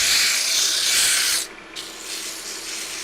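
Sandpaper held against a dry ash wood nut bowl spinning on a lathe gives a steady close hiss, then a brief pause and a slightly softer resumption.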